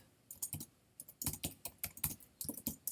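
Typing on a computer keyboard while coding a web page, a close, steady run of quick key clicks in uneven bursts with short pauses, no voices.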